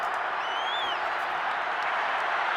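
Steady roar of a stadium crowd cheering and applauding in the Madden 22 football video game during a Super Bowl LVI simulation, a dense continuous wash of noise with a faint whistle-like tone rising above it.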